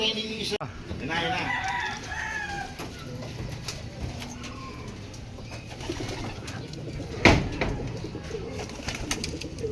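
Racing pigeons at a training release in Tiaong, Quezon make fluttering wing sounds and coos outdoors, with rooster crowing and faint voices in the background and a sharp clap-like burst near the end.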